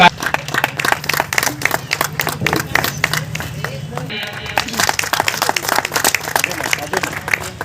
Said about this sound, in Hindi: तालियों में कंजूसी न हो